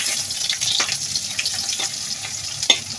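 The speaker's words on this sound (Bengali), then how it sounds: "চুলায় তেলটা গরম হয়ে গেছে, এখন একটু পেঁয়াজ কুচি দিয়ে গুলাপিগুলো ভেজে নেব।" Chopped onions frying in hot oil on a stove for a Bengali hilsa fish and green banana curry: a continuous close, hissing sizzle with soft crackles and a sharper pop near the end, no voices.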